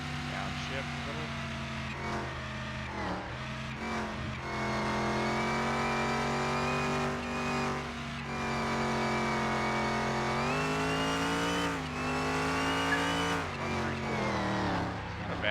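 A 1936 Fiat 500 engine revving on a lap, its tone rising and falling in pitch through several gear changes and downshifts, loud and continuous with brief dips.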